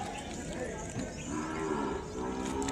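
Cattle at the Kodad livestock market low in a deep, drawn-out moo amid busy market background noise, fairly close and continuous.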